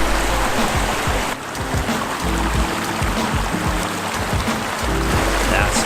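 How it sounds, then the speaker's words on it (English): A river with small waterfalls near Llyn Dinas in Snowdonia, heard as a steady, broad rushing of water that runs close and fairly loud throughout, with no voices over it. "I don't know if you can hear the river and little waterfalls"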